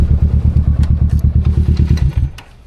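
A motorcycle engine thumps close by in a rapid, loud, even pulse of low beats, then cuts back toward the end.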